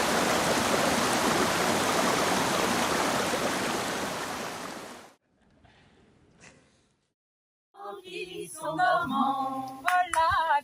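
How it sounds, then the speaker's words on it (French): River rushing in a steady, loud, broadband flow that stops abruptly partway through, followed by a quiet lull and then singing voices. "C'est la rivière."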